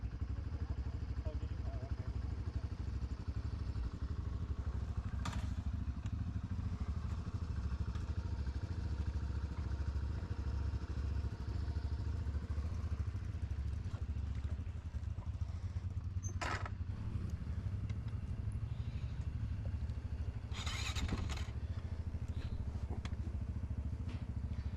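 A 2005 Honda CRF450X dirt bike rides a wooded trail, its engine a steady, close drone throughout, with a few brief clattering bursts over the rumble.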